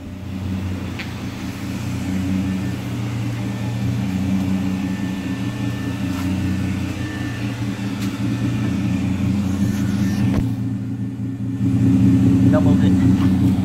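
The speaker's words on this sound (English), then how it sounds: "Doubled it. Dual exhaust. Sounds pretty good, to be honest. A little mean." A 2008 Dodge Charger SXT with aftermarket dual exhaust and a K&N intake idles with a steady low rumble, rising slightly in the last seconds, while a person talks nearby.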